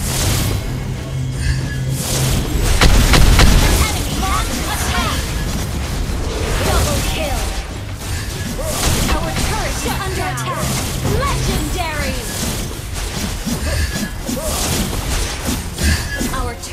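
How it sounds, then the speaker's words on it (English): Turret destruction in the Mobile Legends video game: a dense mix of bursts, thuds and booming impacts with a loud hit near the start, layered under game voice announcements and busy battle effects throughout. "Our turret has been destroyed!"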